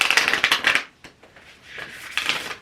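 Tarot cards shuffled by hand with a crisp, fluttering riffle that rattles rapidly, pauses for a quiet moment with a few soft taps, then starts again, close and clear.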